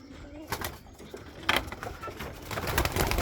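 Pigeons in a loft, six adult birds and two young ones, coo softly in repeated low calls mixed with wing flutters and shuffling, close by and at moderate volume.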